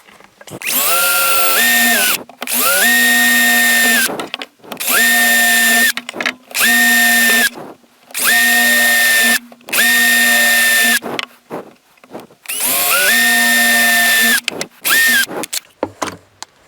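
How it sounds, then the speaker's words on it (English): Drill boring through a yew wood spoon blank in a woodworking shop, loud whining motor in repeated bursts of one to two seconds separated by brief pauses. "I'm now going to use a drill and scroll saw to take out the small"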